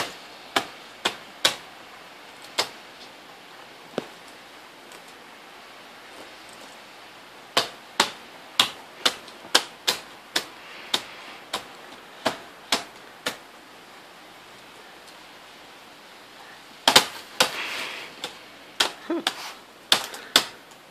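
Keys strike a typewriter in scattered bursts, sharp clacks coming in quick irregular runs separated by pauses, close and crisp against a quiet room.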